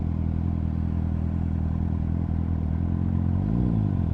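A motorcycle ridden on the road gives a steady, loud, close engine drone throughout, with the pitch rising briefly near the end as it revs; no one speaks.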